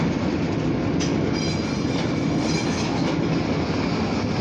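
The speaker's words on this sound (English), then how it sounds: "We got a very short grain hopper train." A short grain hopper freight train rolls past close by at a plastics plant in East Titusville, a continuous heavy rumble with rhythmic wheel clatter and occasional metallic squeals.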